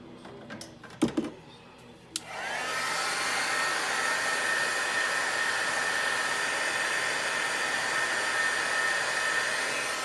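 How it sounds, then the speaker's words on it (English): A heat gun starts up after a few light taps and clicks, then blows in a loud, steady whirring roar while drying alcohol pearls on a card. "I'll pull up that alcohol pearls one and hit that with the heat gun real quick."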